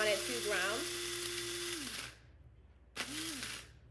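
An electric grinder whirs as it grinds coffee beans for a moka pot, a loud buzzing run with shifting pitch that stops abruptly, then a second short burst after a pause.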